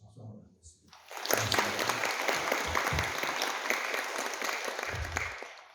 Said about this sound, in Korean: 여러분 오늘도 우리 어린이 청소년 성도들을 위해서 박수 한번 드리겠습니다.